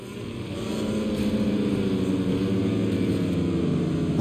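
A motorcycle engine in the racing video game MotoGP 22 drones steadily, rising in the first second and then holding a loud, even hum with no voices.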